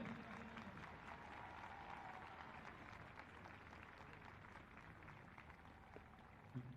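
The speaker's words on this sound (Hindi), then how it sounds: "जोरदार तालियों से अभिनंदन।" Crowd applause at a National Cadet Corps ceremony in Delhi, a steady distant patter of many hands clapping that carries on evenly throughout.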